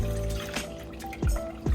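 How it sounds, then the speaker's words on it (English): Milk poured into a pot for champurrado, Mexican hot chocolate, on a home stove: short close liquid trickles and glugs, a few separate pours in a row, no talk. "So this is 4 cups of milk."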